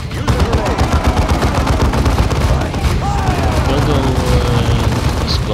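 Continuous space marine gunfire from Dawn of War 2, a dense, loud rattle of rapid shots running throughout with explosions mixed in.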